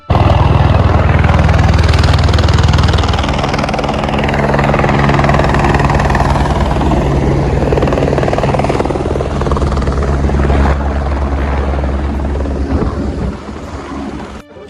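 Loud, continuous thudding and whirring of a helicopter close by at Panchtarni on the Amarnath pilgrimage route, holding steady for the whole stretch before easing off at the end.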